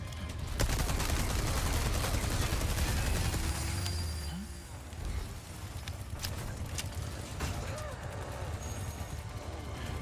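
Machine gun fire in Resident Evil 4: Separate Ways comes as dense, sustained bursts of shots mixed with game effects, loud and continuous through most of the passage.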